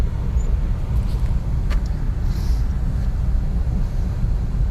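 A car grinds slowly up a snowy, icy hill on Walmersley Road in Bury during a snowstorm, its engine a steady low rumble heard from inside the vehicle, with faint wind noise and no talk.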